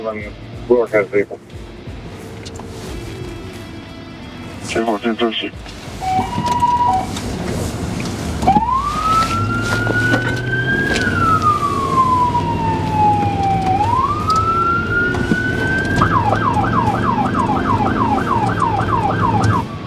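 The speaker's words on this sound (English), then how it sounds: "when I come to places where I see cars, I change the tone" A police siren wails loudly nearby, gliding up and down in long sweeps before switching to a faster, rapid yelp pattern.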